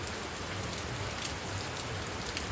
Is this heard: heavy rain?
yes